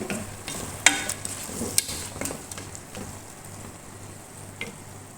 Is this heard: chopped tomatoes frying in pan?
yes